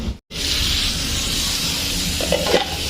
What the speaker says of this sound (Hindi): ये लगभग फ्राई हो चुका है